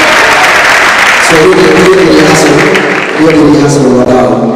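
Applause and cheering from a university hall audience greeting politician Ndindi Nyoro, a loud, dense clatter of clapping that swells after the first second and continues steadily, with some voices mixed in.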